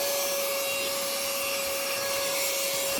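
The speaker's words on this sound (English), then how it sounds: "It is a battery-operated little vacuum thing." A small battery-operated car vacuum runs steadily over carpet, close to the mic. It gives a constant high-pitched motor whine over a rough, hissing rasp of suction, with no breaks and no talk.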